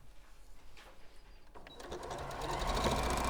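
A sewing machine stitching fabric for a cushion runs in a short burst that starts quiet and builds to a fast, steady mechanical whirr, close by and without talking.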